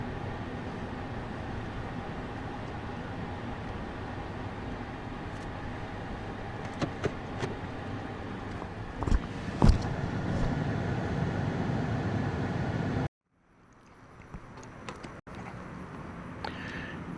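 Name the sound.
car driving and parking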